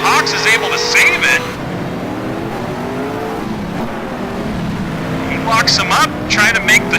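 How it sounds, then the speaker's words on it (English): Race cars in a racing video game set at Adelaide, engines revving and whining through gear changes, loud near the start and end with a quieter drone between, under steady commentary. "On board with Smokey, gets into the back of Hawks, sends him at a 45-degree angle."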